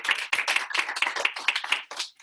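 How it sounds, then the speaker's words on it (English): A small audience at an academy gala gives a short round of applause, close and fairly loud, with distinct individual claps forming an uneven, bursty rhythm. "Please give a round of applause for Jason as well."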